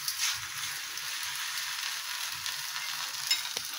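A chapati laid onto a hot tawa, soft continuous sizzling and crackling heard close and fairly faint, with a slight tap near the end.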